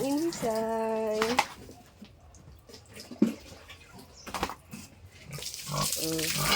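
A pet pig being bathed gives loud, high squeals at the start and end, with sharp grunts and splashing water between them, while a person talks nearby.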